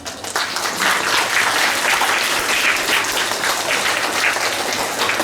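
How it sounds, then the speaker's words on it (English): Sustained applause from a school assembly audience honouring a Class 3 D assembly on Guru Arjan Dev's martyrdom day, a dense steady roar of many hands clapping for about five seconds with no break. "A better round of applause."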